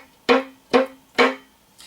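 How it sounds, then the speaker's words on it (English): Tambor effect on a tango violin, a drum-like percussive strike on the strings: three sharp, evenly spaced hits with a fourth faint one at the end, close and dry with no talking. "So the next effect is one that represents a drum-like sound."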